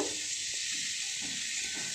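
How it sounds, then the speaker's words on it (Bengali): Pumpkin and potato pieces sizzling steadily in hot oil with spices, a continuous close frying hiss with faint stirring scrapes underneath and no voices. "এবার এর মধ্যে আমি কুমড়ো আর আলু আগে থেকে কেটে রাখা সেটা দিয়ে দিলাম দিয়ে ভালোভাবে নাড়িয়ে এটাকে একটু হালকা ভেজে নেব"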